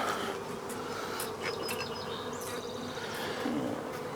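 Honeybees hum and buzz close by at an open hive during an inspection, a faint steady drone with individual bees whizzing past now and then; no one speaks.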